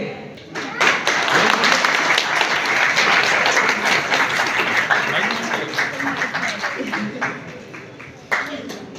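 Sustained audience applause fills a stage ceremony at a Vishwakarma Jayanti celebration as guests are welcomed, loud and steady for about eight seconds before tapering, with a voice talking over it.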